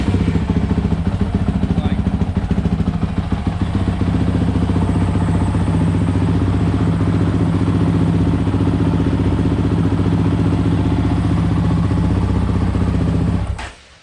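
A 2019 Honda CRF 450 X dirt bike engine runs close by at a loud, steady idle with a clattery texture, then cuts off abruptly at the very end.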